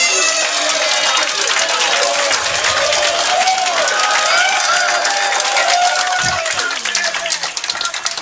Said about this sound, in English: if that's the applause they get for winning a rack